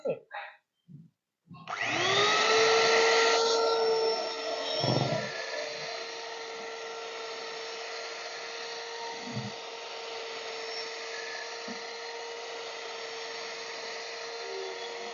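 An electric hand mixer whirs steadily as it beats a marshmallow mixture flavoured with banana essence. It starts after a few brief voice sounds, then runs loud and continuous to the end.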